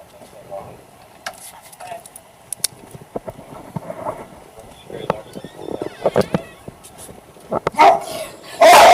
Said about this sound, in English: Are your dogs friendly? They're friendly, but they sound rough.